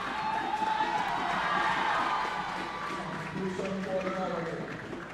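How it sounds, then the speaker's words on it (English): A crowd at a Super 8 round football match in Sri Lanka, Java Lane SC against Serendib SC, cheers loudly in a steady, dense roar that continues throughout, with the commentator talking over it. "The crowd also does cheer pretty loud for him"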